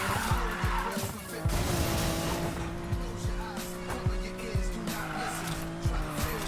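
Tires squealing through a drift in the racing game Need for Speed Payback, a sustained screech with engine drone and repeated thumps over about six seconds, with no talk.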